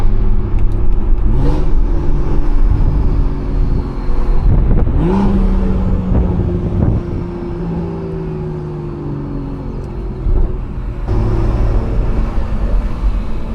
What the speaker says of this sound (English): Listen to that turbo, gang.